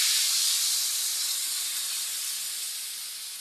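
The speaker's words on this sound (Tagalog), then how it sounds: "pwede natin ilagay yung gata. Okay, dahan-dahan natin siyang ibuhos" Coconut milk is poured slowly into a hot pan while cooking egg curry, giving a steady, bright, loud sizzling hiss that fades gently over a few seconds.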